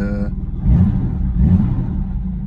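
Rebuilt engine of a 1961 Jaguar E-Type fitted with a full CMC engine rebuild, cranking briefly with a whine and then catching into a loud, close low rumble that swells twice and settles into a steady idle.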